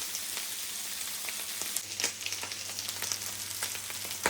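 Sliced chicken breast and onion fry in butter and oil, a continuous crackling sizzle with occasional spatula scrapes and a low hum beneath, and no talk.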